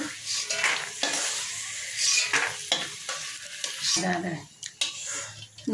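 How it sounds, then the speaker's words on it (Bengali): Reddened fried peanuts being scooped from a pan, with scraping, stirring clinks and a light sizzle in irregular bursts, close and moderately loud. "বাদামটা ভাজা হয়ে গেছে লাল করে, এবার আমি উঠিয়ে নেব"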